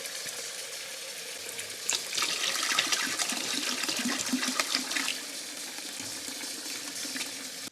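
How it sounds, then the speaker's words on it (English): Tap water runs steadily into a sink while boneless country-style pork ribs are rinsed, a continuous close hiss and splash with slight swells in the middle, no talking. "So first we're going to wash this meat."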